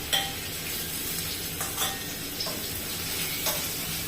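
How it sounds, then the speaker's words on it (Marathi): Onion mixed with fresh ginger-garlic paste sizzles steadily in a pan for a bajra khichdi, a constant frying hiss broken by a few soft scrapes and clinks of a stirring spoon. "कांदा पण छान परतून द्यायचा आहे, लाल होतं।"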